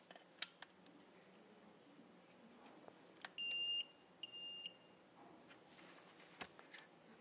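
The buzzer of an NT-70 pocket voltage detector sounds two sharp, high electronic beeps, each about half a second long, separated by a short gap, clear against a quiet background.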